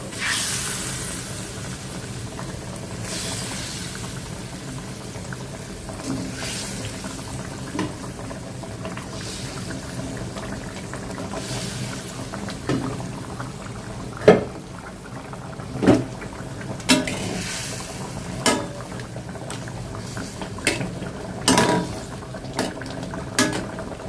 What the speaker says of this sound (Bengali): পানি বলক চলে আসছে